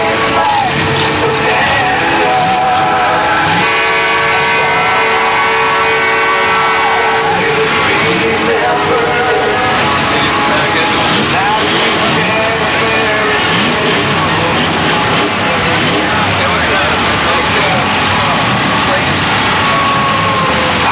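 At a 1985 demolition derby in Moses Lake, cars race and crash with loud revving engines and screeching tyres, a constant roar over a crowd and an announcer talking throughout.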